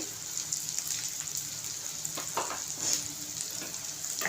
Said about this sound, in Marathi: चांगला मसाला तेल सुटेपर्यंत भाजून घ्यायचं